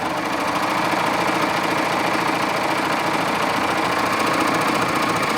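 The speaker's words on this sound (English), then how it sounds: "this time I'm going to stitch from the right side of my fabric so I can see where my needles land" A Baby Lock serger runs continuously stitching elastic into Lycra swimwear fabric, a fast steady mechanical whir and chatter, close and even throughout.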